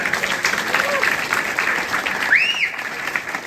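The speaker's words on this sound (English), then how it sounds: "let's give a round of applause for Marty Goodman." An audience at a memorial gathering applauds for Marty Goodman with steady, fairly loud clapping from many hands, while brief voices and a rising cheer or whoop surface partway through.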